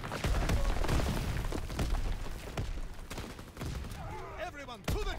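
Rapid, dense explosions and gunfire from grenades going off in Call of Duty WW2, loud and continuous with sharp blasts throughout, and a voice speaking briefly near the end.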